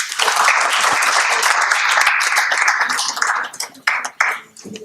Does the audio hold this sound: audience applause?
yes